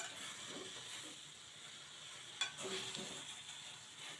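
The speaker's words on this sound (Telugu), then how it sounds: "వెన్న వేస్తున్నా. వెన్న గరిటె ఉంది కాబట్టి దీంతోనే కలిపేస్తున్నా." Butter is stirred into a pan with a ladle: soft scraping strokes over a steady sizzle and hiss, close and fairly quiet, with one brief clink.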